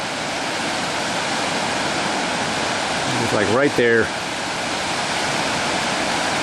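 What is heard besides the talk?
river rapids rushing at a big hole on the Salmon River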